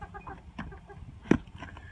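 Hens cluck softly in a backyard chicken coop that also houses ducks. The soft clucks are scattered and close, with one sharper cluck standing out, and there is no talk.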